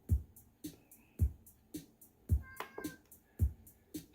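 A house cat meowing repeatedly indoors beside a Roland Verselab MV-1 groovebox playing a steady beat, the short meows faint and close over the rhythmic electronic thumps.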